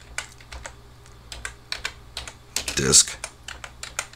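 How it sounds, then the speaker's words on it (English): Computer keyboard keys tapped in a quick irregular run of clicks, close and fairly quiet, with a denser burst of keystrokes near the end; someone speaks briefly. "So I'm going to type select"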